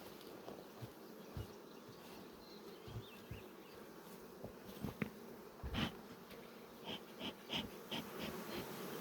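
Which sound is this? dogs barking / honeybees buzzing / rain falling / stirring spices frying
honeybees buzzing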